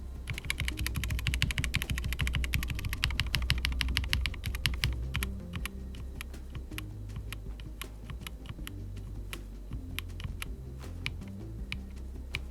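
Rapid, continuous typing on a Redragon Eisa Max mechanical keyboard with Mambo switches, dense clacky keystrokes up close with a deep, solid thock, slowing slightly toward the end.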